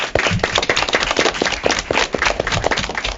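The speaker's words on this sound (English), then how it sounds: "I like to have a big round of applause for yourself" Applause after an elementary school derby match, a short burst of sharp, uneven hand claps from a small nearby crowd, fairly loud and steady throughout.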